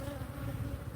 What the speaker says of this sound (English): these bees are a little bit aggressive, but they really feel to me like they're all from this hive, coming back from the field.